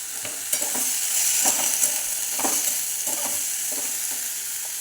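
Green beans fry in a pan with salt while a utensil stirs them: a steady sizzle throughout, broken by soft periodic scraping strokes, close and moderately loud, with no talk.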